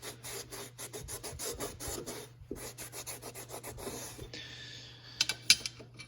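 Rust is scrubbed off chrome: a close, rapid, rasping rub of many quick strokes. It briefly stops, resumes, then softens into a smoother hiss, and a few small metallic clinks follow. No talk.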